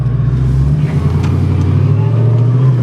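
A supercharged V8 Pajero Evolution spins its wheels off road, its engine holding a loud, steady, close droning roar that rises slightly in pitch as it fights for traction.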